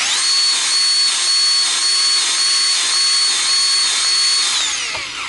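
A Milwaukee M12 cordless grease gun pumps grease into a fitting on a Kubota B2650 tractor, a loud steady motor whine held for about five seconds before it winds down at the end.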